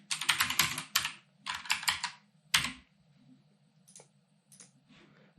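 Code is typed on a computer keyboard in close, crisp bursts of rapid key clicks separated by short pauses, fading to a few scattered taps near the end.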